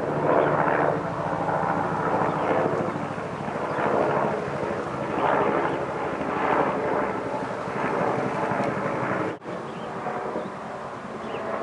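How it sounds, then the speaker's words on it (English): A storm blows in during a moderate 5.1 earthquake in Baja, making a steady, heavy rumbling roar like thunder and wind that swells and eases in waves, broken by a brief dropout near the end. "And there's a storm blowing in at the same time."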